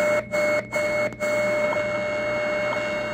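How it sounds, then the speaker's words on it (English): A steady internal birdie tone from a Choyong LC90 radio receiver tuned to shortwave, a thin constant whistle over band hiss, briefly interrupted by a few short dropouts near the start. "that tone you're hearing is actually an internal birdie from the radio circuit going into shortwave"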